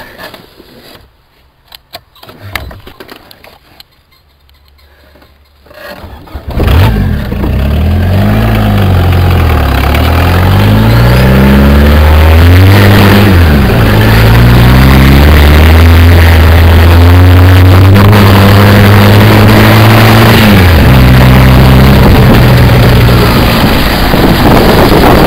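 A small fuel-powered car starts up and drives down a valley toward ram pumps, its engine going from quiet clicks to a loud, steady pulsing drone with rising and falling pitch as it moves, close to the microphone throughout.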